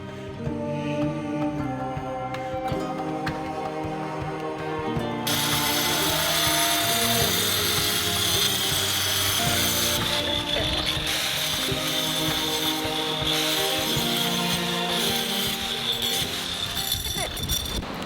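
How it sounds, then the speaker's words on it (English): An angle grinder fitted with a tile cutting blade and fed by a hose as a makeshift wet saw whines steadily and loudly while cutting for a DIY brick pizza oven, its pitch shifting under load, with voices at times. "made our own wet saw using a hose and the angle grinder with the tile cutting blade on it"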